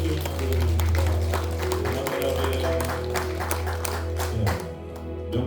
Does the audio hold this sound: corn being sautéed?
no